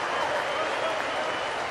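Rugby league crowd at a Castleford v Wakefield match cheering a player, a broad sustained roar of cheering and applause, distant and steady throughout.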